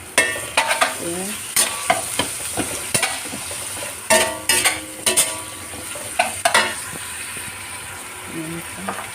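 Ground minced beef sizzles in a pan, steady and close, while a spoon or spatula scrapes and knocks against the pan in irregular strokes.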